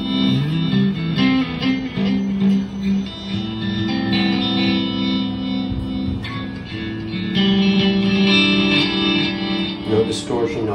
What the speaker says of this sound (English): you could have the tremolo pulsing and the delay pulsing